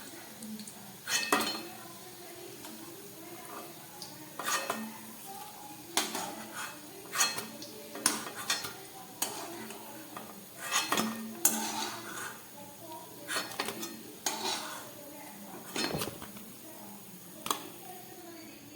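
Fried jackfruit koftas being turned and lifted from hot oil in a pan, with repeated metallic clinks and scrapes of a spoon against the pan over a low sizzle, irregular and close.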